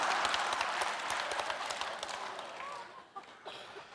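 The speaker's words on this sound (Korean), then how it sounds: "남은 아픈 얘기하고 있는데 박수 치는 건 또 뭐야" A congregation applauding during a sermon at a church Friday prayer meeting: dense, sustained clapping that starts loud and gradually fades to scattered claps.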